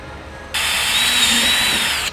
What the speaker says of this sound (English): mark those hole positions and drill your pilot holes